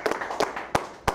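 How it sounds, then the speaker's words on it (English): Four sharp, separate claps ring out in roughly even spacing, fairly close and moderately loud, as a small crowd at a Coulda Been Records audition in Miami gets urged to applaud. "Y'all clap it up"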